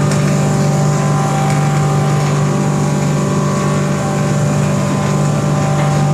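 An idly batter wet grinding machine grinds ragi with a loud, steady motor hum and whir that runs unbroken from start to finish.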